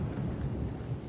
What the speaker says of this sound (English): so now it do be raining in the desert